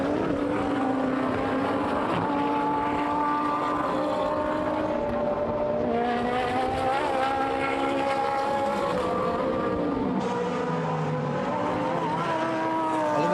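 GT1 race cars, among them a number 3 Ferrari, run at Donington in a championship race, giving a steady blend of engine tones with passing pitch sweeps under a faint commentary voice.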